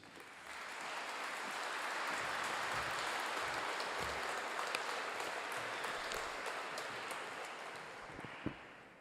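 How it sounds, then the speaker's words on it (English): Audience applause fills Sydney Town Hall during a performance and fundraiser, a sustained, dense wash of many hands clapping that swells in quickly, holds steady for several seconds and fades slightly at the end. "A warm hand of applause for our favourite minister."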